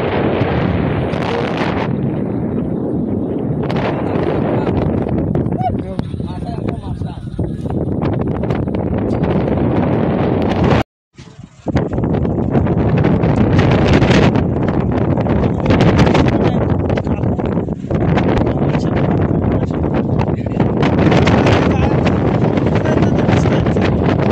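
Strong wind buffets the microphone in a loud, continuous roar near Jaitapur on the Ratnagiri coast, with a single brief dropout midway.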